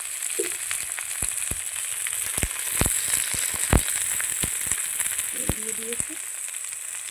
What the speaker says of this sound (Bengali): লাল লাল করে ভাজা হয়ে গেছে এই পেঁয়াজ আর টমেটো